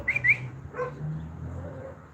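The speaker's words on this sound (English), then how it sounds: "That's our dog." A pet dog outdoors at a home in Guanajuato, Mexico, gives a couple of short, high yips and whimpers near the start, then a quieter bark, with faint background noise and no talking.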